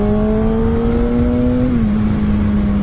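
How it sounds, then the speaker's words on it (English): A Kawasaki ZX6R motorcycle fitted with an M4 exhaust holds a loud, steady rev, its engine note rising slightly before dipping, close and alone with no talk. "this bike was just so aggressive in the sound, because we just changed out the M4 exhaust on it"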